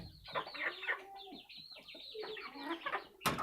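Native hens cluck and chatter continuously on a small farm, several birds close by making overlapping clucks and squawks, with a sharp louder noise near the end.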